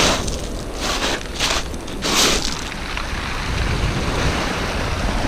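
Sea surf washing onto the shore, a broad steady wash with a few surging swells near the start, steady and fairly loud, with some wind across the microphone and no talk.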